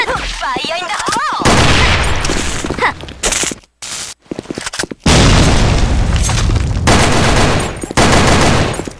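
Grenade explosion in the video game Sudden Attack during a clan match, a loud booming blast amid dense rapid gunfire bursts, with brief silent gaps and shouting voices.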